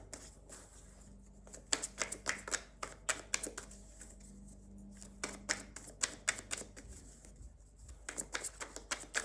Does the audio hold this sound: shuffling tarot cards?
yes